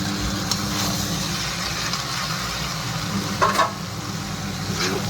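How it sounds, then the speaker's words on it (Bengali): Potatoes and cauliflower stir-fried in masala for an egg curry give a steady sizzle with occasional scraping stir sounds over constant background hum. "মশলা দিয়ে কষে নেবো ভালো করে আলু আর ফুলকপিটা।"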